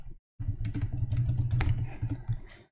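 Rapid keystrokes on a computer keyboard, close and fairly soft, tapping in an uneven burst after a short pause, with a low hum beneath.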